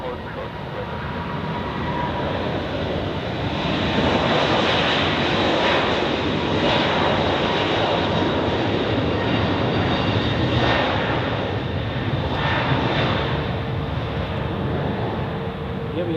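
Jet engines of a Boeing 737 MAX at Zurich Airport roar steadily and loudly, swelling slightly midway, with a constant broadband whine and rumble of nearby aircraft taxiing on the airfield.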